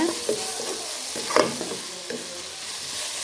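Boiled potato pieces are sautéed in a pan for an egg curry, giving a steady close sizzle with scraping stirs and a few sharper clinks from the spoon against the pan.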